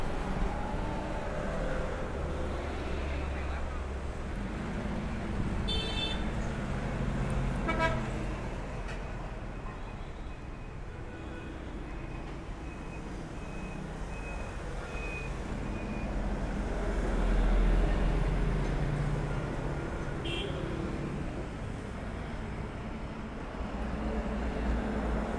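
A Komatsu 1.5-ton gasoline forklift with manual transmission idles and rolls slowly, a steady low engine rumble running throughout with faint outdoor background noise and a few brief clicks.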